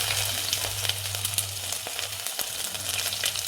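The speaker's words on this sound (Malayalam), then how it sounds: "നമ്മുടെ വെളിച്ചെണ്ണ ചൂടായിട്ടുണ്ട്. ഇനി കടുക് ഇടാം." Mustard seeds sizzle and fry in hot coconut oil in a pan, a soft continuous crackle with scattered pops, along with a low steady hum from the kitchen.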